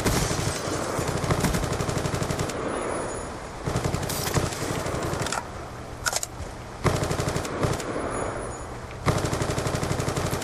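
Rapid automatic Peacekeeper gunfire in Call of Duty: Black Ops 2 on the Revolution map, with loud, close bursts of fast shots broken by brief pauses, continuing throughout with no talk.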